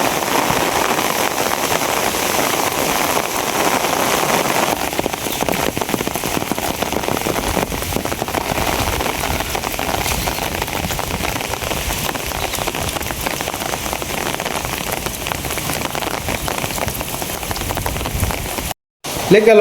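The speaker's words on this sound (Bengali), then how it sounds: "বৃষ্টির ফুটা বড় বড় না শুধুই কিন্তু ঘন ঘন পড়তাছে" Dense, heavy rain falls steadily on surfaces, a loud unbroken patter of drops that continues throughout, with a brief dropout near the end.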